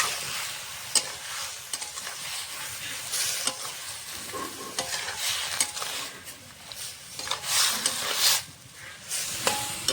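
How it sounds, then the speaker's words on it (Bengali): Potato, eggplant and greens sizzle steadily in a pan with ginger-chili paste and spices, a close, continuous frying hiss broken by repeated scraping stirs of a spatula, with no talking. "এখন দিয়ে দেবো আদা লঙ্কা বাটা। মশলার সঙ্গে সবজিগুলো কষানো হয়ে যাবে ভালো করে।"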